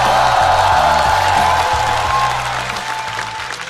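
Studio audience at a stand-up comedy show applauds and cheers loudly with scattered whoops, the sustained clapping easing slightly toward the end, over a low musical backing.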